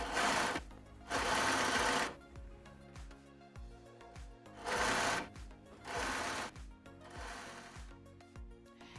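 A sewing machine stitches elastic onto a bra in short bursts of rapid buzzing, four loud runs separated by pauses with light clicks and handling sounds, close by and with no talking.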